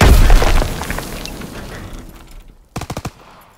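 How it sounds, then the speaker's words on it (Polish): A grenade blast and heavy gunfire in the Call of Duty WWII video game, set in Hürtgen, Germany, November 1944. Loud sustained firing gives way to a tight cluster of about four sharp, booming bursts near the end. "Granat! Wyrzucam granat!"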